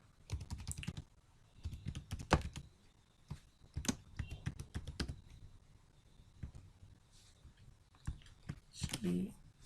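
Someone types a password on a computer keyboard, with bursts of close, crisp key clacks in quick clusters separated by short pauses, fairly quiet.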